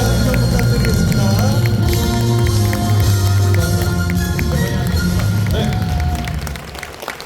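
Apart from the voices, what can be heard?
audience applause welcoming the speaker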